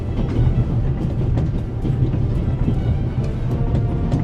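A train rumbles steadily along the rails in The Raven Remastered. The deep, loud rolling carries a faint clickety-clack of the wheels, and no voices are heard.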